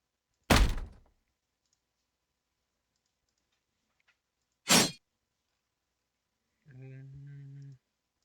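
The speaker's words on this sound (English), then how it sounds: "Metal shield. Weapon drop." Two sharp metallic video game impacts for a metal shield and a weapon drop ring out alone, spaced apart, followed by a short tonal buzzing effect.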